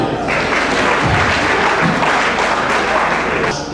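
An audience at a Helping Hands International meeting breaks into loud, sustained applause, with dense clapping that stays even throughout.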